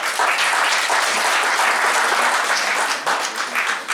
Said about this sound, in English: Please come on to the dais stage with a round big applause.